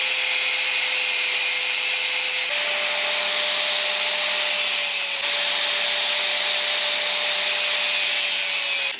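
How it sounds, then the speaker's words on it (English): A cutting tool slices a notch into metal tubing for an off-road hot rod build, giving a steady, loud abrasive grinding that runs continuously throughout, with a slight shift in pitch partway through and no talking. "I make a slice in the tubing."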